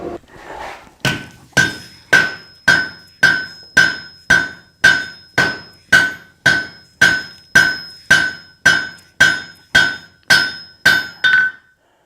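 Steady series of about seventeen ringing hammer blows on hot steel, forge-welding a hoe blank at welding heat on an anvil, evenly spaced and loud with a bright metallic ring after each strike, no talking.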